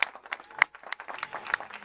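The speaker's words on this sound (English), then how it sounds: "give a big round of applause for Calvin" Brief, scattered handclaps from a small group in a backstage room, sharp irregular claps that stay moderate in level without building to a full ovation.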